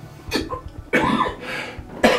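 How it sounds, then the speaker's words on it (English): Three sharp, close coughs in a row, each a short rough burst separated by brief gaps. "I can't make a video without coughing"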